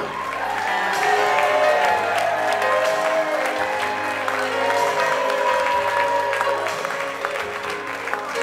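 Wedding guests applaud steadily at a country club reception, a dense, continuous clapping with a few cheers mixed in, filling the room at full strength throughout.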